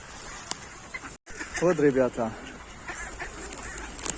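Ducks being fed give a short burst of harsh, honking quacks near the middle, loud and close, with someone talking briefly before them and faint outdoor background noise throughout.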